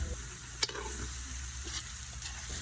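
Buttered garlic shrimp sizzles steadily in a pan while being stirred, with a constant frying hiss and occasional sharp scrapes and clicks of the utensil against the pan.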